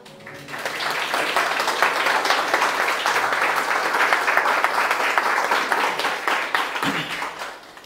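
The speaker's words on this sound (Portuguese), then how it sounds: "O Mestre merece os aplausos." A lecture audience claps and applauds warmly. The dense, sustained applause holds steady for several seconds and then thins out, with no speech over it.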